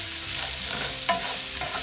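Sliced ginger, green chilies and curry leaves sauté in a pan for a Kerala black chickpea curry, giving a steady close sizzle with a brief stirring scrape midway.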